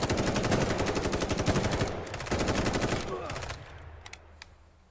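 Rapid automatic gunfire from combat in The Day Before, a survival MMO shooter, rattles in loud sustained bursts, breaks off briefly, resumes, then fades into a few scattered single shots near the end.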